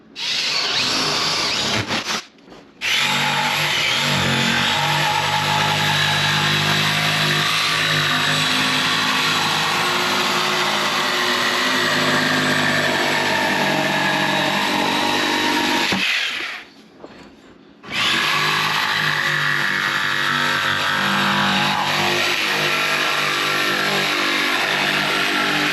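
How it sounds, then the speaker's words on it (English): A power drill runs loud and continuous as it bores and cuts a hole through a wood ceiling between joists, pausing briefly twice before resuming. "Now I just have to drill a hole and cut this out."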